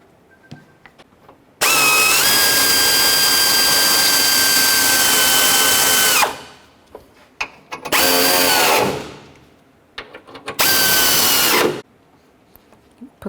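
Power tool driving a 10mm socket onto radiator support mounting bolts with rubber bushings on a 1997-04 Dodge Dakota, three loud close bursts, a long whine followed by two shorter runs, with quiet gaps between.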